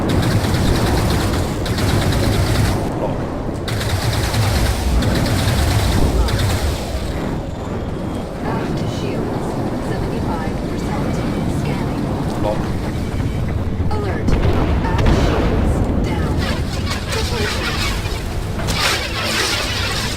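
Spaceship weapons fire during a multiplayer dogfight in Star Citizen from a Freelancer ship, a dense continuous roar of engines and blasts. Bursts are barely separable and a voice talks now and then.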